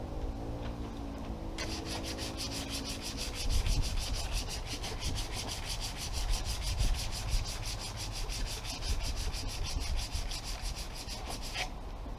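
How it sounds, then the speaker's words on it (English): Steady rhythmic sanding strokes rub down the bodywork of a Mk3 Ford Cortina estate car, continuous and close, starting after a brief lower scraping. "doing this bodywork, rubbing down and stuff"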